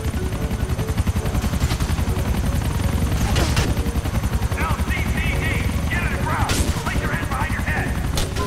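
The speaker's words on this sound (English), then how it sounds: "Now we're gonna have two army helicopters coming in." Two army helicopters in the video game GTA IV approach with a steady, loud rotor drone, overlaid by bursts of gunfire and sharp crashes through the middle and end.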